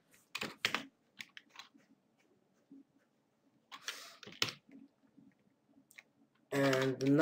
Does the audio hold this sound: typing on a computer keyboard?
yes